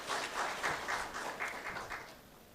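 Audience applause for an Honorable Minister at a conference on the Act East policy and North-east Indian states, a steady wash of many hands clapping at moderate volume for a few seconds without speech.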